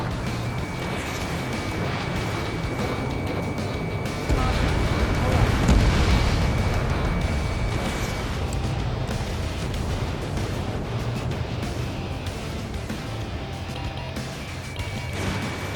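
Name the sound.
explosions as target is destroyed in video game Ace Combat 7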